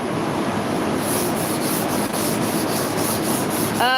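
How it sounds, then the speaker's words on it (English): A car spoiler is scuffed by hand with a Scotch pad, a continuous dry rubbing hiss with steady back-and-forth strokes, close and loud, no voices. "Just doing a spoiler myself with Scotch pad"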